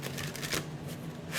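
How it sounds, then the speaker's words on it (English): Tarot cards riffled and shuffled in a steady, close, papery flutter with a couple of brief sharper bursts, no voices. "I don't know why I just shuffled that."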